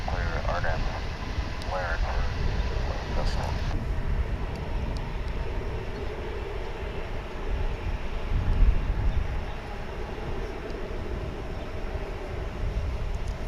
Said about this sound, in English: in the foreground you're about to see American Flight 2487 coming in from Kansas City, Missouri